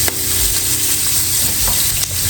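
Chopped yellow onions sizzle steadily in a hot pan, a dense continuous frying hiss with occasional stir clicks, close and loud with no talking.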